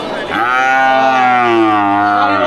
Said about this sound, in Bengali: খুব সুন্দর একটা ফ্রিজিয়ান জাতের বাছুর